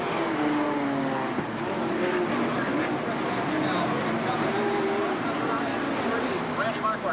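Stock cars race on a muddy dirt track, including a red and white Ford Thunderbird, engines droning loudly and continuously with rising and falling pitch as they pass, beneath an announcer calling the race.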